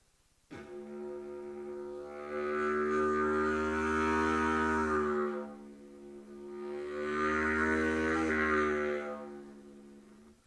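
A sustained low reedy drone note held steadily, played softly at first, then swelling louder, easing off, and rising loud again.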